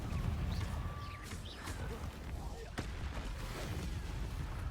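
The Confringo fire spell in Hogwarts Legacy fires off a fiery blast inside dense, continuous game noise, with a sharp crack standing out from the rumbling background clamour.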